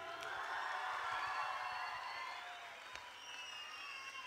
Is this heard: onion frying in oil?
no